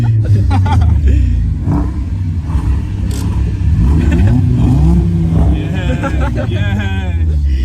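A 1-litre petrol Vauxhall Corsa B pulls away from the lights in a drag race, its engine rising under loud, excited chatter and laughter from people nearby. The revving climbs more clearly near the end.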